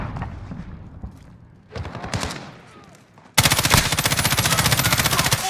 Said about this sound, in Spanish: torreta centinela aliada en línea